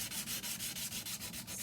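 Abrasive sanding of a small metal jewelry piece to clear burrs left from cutting, a steady rubbing scrape in quick repeated strokes, close and alone with no voices.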